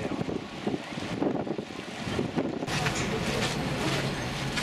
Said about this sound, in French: Le vent soulève la poussière.